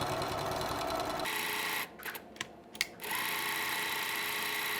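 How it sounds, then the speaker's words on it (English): A sewing machine stitches along the sides, top and bottom of a quilted carrying cozy, running in a steady close whir that pauses briefly in the middle before resuming. "I'm going to sew along the side, the top, and the bottom"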